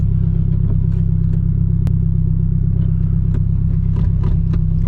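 Engine of a Nissan Sileighty idling in stop-start traffic, a steady low rumble filling the cabin with occasional faint clicks and creaks, no talking.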